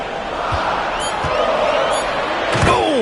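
A slam dunk in a Euroleague basketball video game, Olympiacos against Bayern, lands with a few thuds over a steady roar of crowd cheering and commentary.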